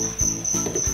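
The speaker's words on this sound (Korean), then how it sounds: "아우, 귀뚜라미 소리 너무 시끄럽다." Feeder crickets kept indoors for Brazilian pacman frogs chirp loudly in a steady, continuous high trill that runs without pause, close by and alone.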